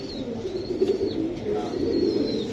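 A silver female Giribaz pigeon, held in the hand, gives soft low coos, close and fairly quiet, continuing across the short moment with a faint rustle in the background.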